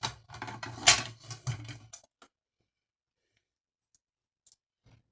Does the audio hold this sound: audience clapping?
no